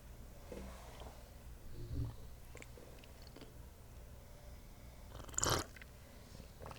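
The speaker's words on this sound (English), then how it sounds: "coffee just tastes better when you slurp it like that" A person slurping coffee in a quiet room: soft scattered mouth noises, then one loud, close, harsh slurp near the end.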